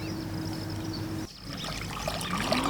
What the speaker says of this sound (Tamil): இப்போது லைட்டாக தண்ணி ஊற்றி இப்படி கீழே ஊற்றிடலாம்